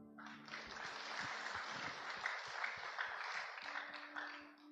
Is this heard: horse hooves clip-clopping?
no